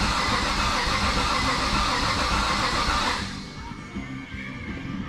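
A 1969 Chevelle engine cranks over with a loud, steady, dense churning that runs for about three seconds and then cuts off, leaving quieter background noise.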